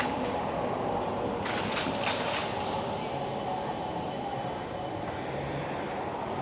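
A Vancouver SkyTrain metro train runs past at the Davie and Granville Street area, giving a steady, fairly close rumble of wheels on track with a few brief rattling bursts midway.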